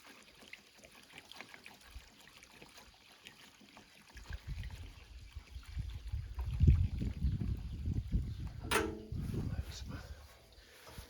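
Fuel pours and trickles from a repaired GPX750 motorcycle fuel tank, a liquid splashing sound that builds in the middle and fades, with a sharp clatter near the end and quiet talk around it.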